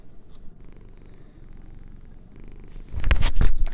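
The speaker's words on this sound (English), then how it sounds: "That was a cat drum roll there" A cat purrs in a low, rhythmic rumble, quiet at first and then much louder and closer in the last second.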